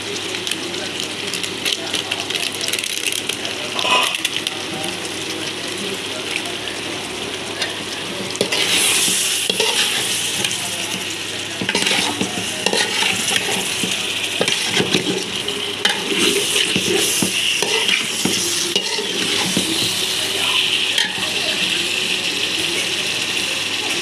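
Biryani masala fries in a pot, giving a steady close sizzle broken by repeated scraping and clattering as a spoon stirs it, with louder bursts of stirring partway through.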